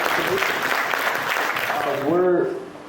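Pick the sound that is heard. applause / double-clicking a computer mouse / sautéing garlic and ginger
applause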